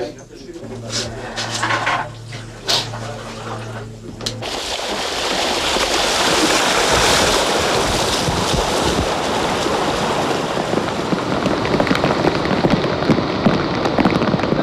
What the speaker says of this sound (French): Ça arrête de pleuvoir ici là.